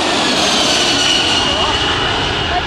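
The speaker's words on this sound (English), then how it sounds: "This Air New Zealand Boeing 747 performs a high-speed low pass over some spectators at an air show." An Air New Zealand Boeing 747 makes a high-speed low pass over spectators at an air show, with loud, continuous jet engine roar close overhead filling the whole short stretch.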